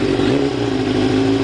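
A cold 1990 Kawasaki Ninja 750 barn-find sportbike engine runs, needing a carb sync. It gives a continuous, loud, close mid-pitched hum with a steady rhythm and no talking.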